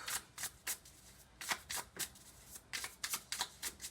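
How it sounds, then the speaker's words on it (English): Tarot cards being shuffled in quick riffling bursts, about a dozen brisk flurries in an uneven rhythm, close and fairly soft. "I'm gonna shuffle."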